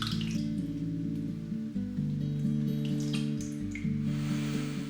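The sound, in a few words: pot being filled with water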